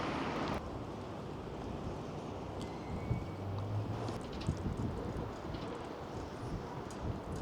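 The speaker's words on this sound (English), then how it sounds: "The wind is certainly getting up" Wind gusts along the Blackpool seafront during a rough sea, a dense, rumbling buffet of microphone wind noise that stays loud and steady throughout.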